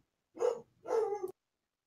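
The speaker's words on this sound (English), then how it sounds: "Look, the dog's barking." Two short, muffled dog barks, a fairly faint double woof heard alone in a quiet setting.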